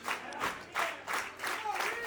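An arena crowd at a WFA wrestling event cheers and applauds in a distant, swelling roar that comes in repeated surges beneath a commentator's voice.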